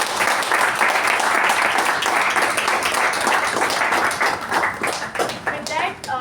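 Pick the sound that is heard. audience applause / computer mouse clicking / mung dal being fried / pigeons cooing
audience applause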